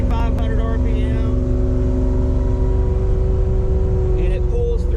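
A car engine fitted with a Holley carburettor pulls steadily in high gear at around 2,500 RPM, a loud, even, low drone heard from inside the car with no stumbles, while a voice talks briefly over it.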